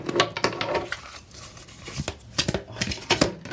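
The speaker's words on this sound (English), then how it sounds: "I'm just gonna go ahead and give these cards a shuffle." A deck of oracle cards is shuffled by hand in a series of quick, papery riffles and soft slaps, arriving in short irregular bursts close to the microphone.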